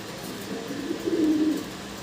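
Fancy domestic pigeons cooing nearby, a soft low throaty coo swelling briefly in the middle over quiet background, no talk.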